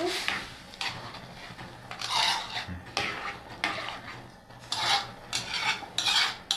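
A spoon stirs lentils for Egyptian koshari in a pot, making close, repeated scraping and rasping strokes against the pot in an irregular rhythm.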